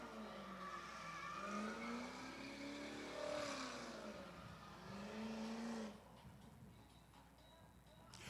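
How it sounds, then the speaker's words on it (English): A car doing a long burnout at a drift event, its engine revving and wavering up and down loudly with tire roar for several seconds, then dropping to a lower rumble near the end. "Dude, this thing's taking a beat down. Like a 3-minute burnout session so far."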